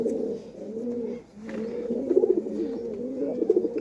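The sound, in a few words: pigeons cooing, golden pigeon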